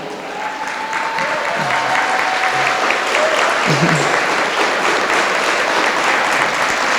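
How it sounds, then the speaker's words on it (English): An audience at a K-8 school presentation applauds students standing on stage, a dense, loud, sustained wash of clapping that runs unbroken throughout, with a few faint voices in the crowd. "I want you to give the biggest, loudest applause to these students who stand on this stage."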